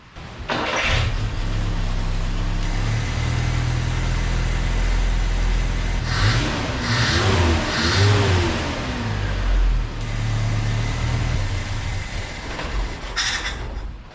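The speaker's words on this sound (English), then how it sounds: "It seemed to be running better when I did a little rev up." Truck engine running roughly and revving in short bursts, a loud close rumble that rises and falls between revs and then settles near idle, with no talk.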